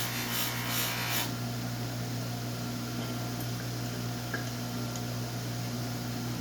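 A Cold Steel Counter Point XL knife is buffed and polished on a wheel: a short rougher grinding burst at the start, then a steady, fairly quiet motor-like hum and rub that carries on without talk.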